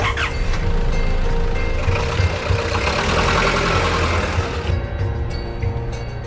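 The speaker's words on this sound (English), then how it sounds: "As we drive through the streets of Edinburgh" A car driving through the city streets of Edinburgh, a low steady engine hum and road rumble from inside the vehicle, fading slightly toward the end.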